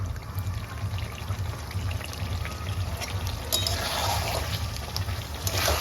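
Water poured into a pan of browned meat curry that has released its oil, giving a continuous close pouring and trickling rush over a low hum, with no talking.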